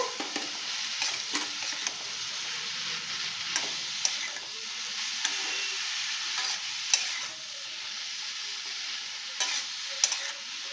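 A hilsa fish head is stirred with turmeric and salt in a hot pan, a steady sizzle punctuated by repeated scraping and clicking strokes of the spatula, close and clear with no voices.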